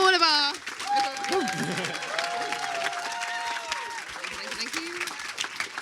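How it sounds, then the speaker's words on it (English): An audience at the Earthmovers 2018 awards event gives a dense round of applause. Voices and a few brief calls sound over the clapping, which holds steady after a louder start. "A big round of applause for all of our..."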